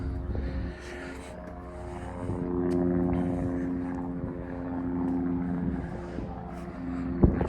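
Helicopter flying over Coventry Airport (Baginton), a steady, moderately distant droning engine hum with a sustained tonal whine, holding throughout with a brief knock near the end.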